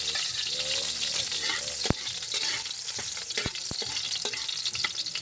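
Garlic frying in hot oil at the start of adobong kangkong, a dense crackling sizzle with loud ticks and scrapes as it is stirred, close and without talk.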